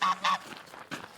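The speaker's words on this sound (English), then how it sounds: "I do apologise for these geese there." Geese near their nest give two quick loud honks, then a pause before a third harsh call, close by with no voices.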